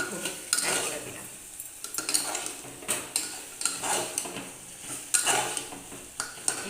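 Chicken curry spices sautéing in a pan, a utensil scraping and clinking against the metal in a steady rhythm of repeated strokes, close up, with a soft sizzle underneath and no talking.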